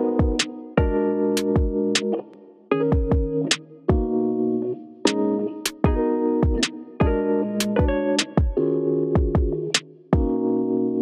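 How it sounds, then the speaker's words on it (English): A hip hop beat: punchy kick and snare hits loop over a chopped melodic sample, with sharp transients recurring in a steady groove for several bars, no vocals. "The kick and snare pattern along with the sample is gonna sound like this."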